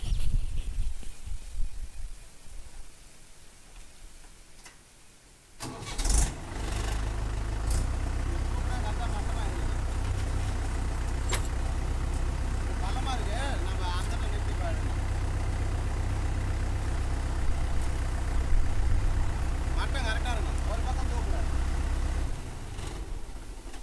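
A tractor's diesel engine starts up and settles into a steady, loud low rumble as it runs to lift a five-tine plough, with someone talking early on.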